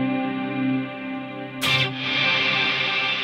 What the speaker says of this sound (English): I tried to bring in the Fiedler Audio 480 reverb.